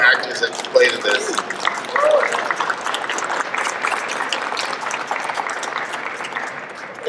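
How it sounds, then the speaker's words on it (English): Audience at a City Hall press conference applauds the film's actors, a broad wash of clapping mixed with crowd murmur and some voices, strongest at the start and gradually easing off. "let's applaud for all the actors that played in this."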